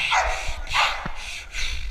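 A dog barks in a repeated rhythmic series of loud, close calls during a dog training or protection trial, with excited shouting from people nearby.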